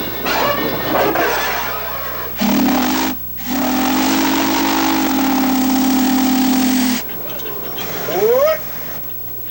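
A 1919 Nichols and Shepard steam engine runs nearby with a steady mechanical drone and a sustained whistle-like tone lasting several seconds, broken by brief pauses, with a rising tone near the end.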